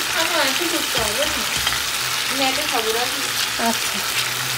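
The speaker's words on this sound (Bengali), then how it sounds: "এখানে এই যে ভেন্ডি ভাজি করে নিতেছি, তেলের উপরে ভেন্ডি ছেড়ে দিচ্ছি" Okra frying in hot oil makes a loud, continuous sizzle that fills the scene, while someone talks briefly over the crackle.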